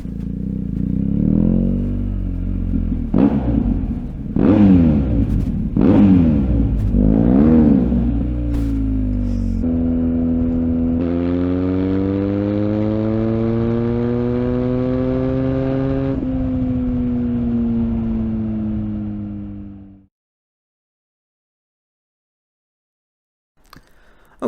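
A BMW R1250R motorcycle fitted with an SP Engineering exhaust revs up through several quick bursts, then pulls away in a long rising acceleration through the gears, loud and close, before cutting off into silence.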